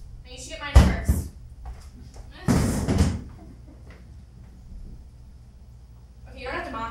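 A chair is shifted around on an improv comedy stage at the Tampa Improv Festival, producing two loud knocking, scraping bursts a couple of seconds apart, with performers' voices faintly around them.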